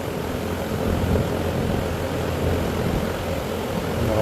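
An air conditioner blower motor, its coil iced up, runs with a steady, loud broadband whoosh and low rumble that holds constant throughout, close by and without any voices.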